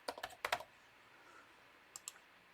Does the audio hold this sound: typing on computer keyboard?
yes